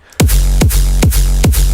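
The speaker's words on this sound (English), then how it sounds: "I try to mimic a hardstyle kick." A heavily distorted synthesized hardstyle kick drum pounds four times in a steady loop, each hit a punchy pitched-down thump with a gritty, buzzing tail.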